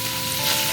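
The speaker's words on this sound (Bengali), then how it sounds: "টমেটো আর ক্যাপসিকাম, এগুলো হালকা, খুব হালকা ফ্রাই করে নেব" Tomato and capsicum lightly frying in a pan, a close, steady hissing sizzle with no break, heard alone.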